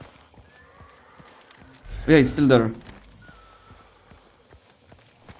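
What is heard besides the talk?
horse hooves in the video game Hunt: Showdown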